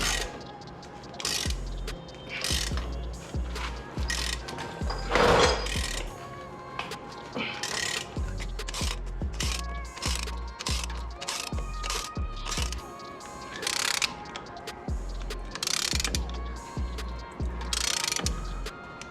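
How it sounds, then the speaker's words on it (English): Ball joint delete being pressed up into a Jeep Wrangler axle, heard as a steady run of close ratcheting clicks and metallic clatter from the press tool, with brief louder knocks along the way. "press this just like we would any other ball joint up into the axle"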